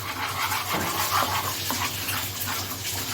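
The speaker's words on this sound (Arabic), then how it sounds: "نحط شويه ميه مغليه." Boiling water is poured from a kettle into tahini to make a tahini salad in a home kitchen, giving a steady splashing trickle for a few seconds with a faint background hum.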